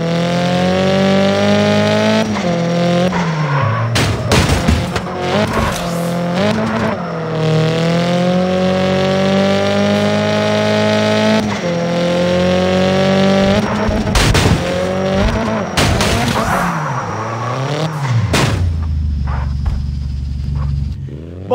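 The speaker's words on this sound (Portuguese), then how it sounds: "tem uma escutada nesse ronco desse carro aqui" A race car in the CarX Drift Racing 3 game roars loudly, revving and accelerating through rising gear pulls, with sharp bangs and tire squeal breaking in, continuous and close for over twenty seconds.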